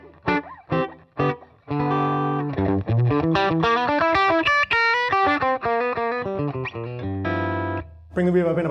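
An electric guitar played through a Roland Blues Cube amp with the reverb switched off rings out in a run of distinct notes and chords, close and dry, with short pauses between phrases.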